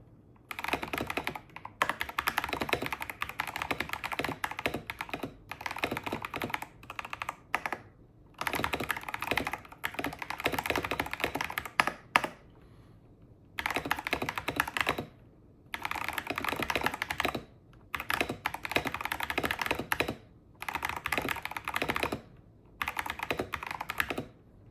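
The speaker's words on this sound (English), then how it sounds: "it's time for a typing test" Typing on a Phantom S mechanical keyboard, rapid clacking keystrokes in bursts of several seconds separated by short pauses, close and crisp with no speech.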